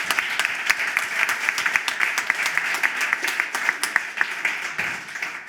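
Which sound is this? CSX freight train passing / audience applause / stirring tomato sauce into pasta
audience applause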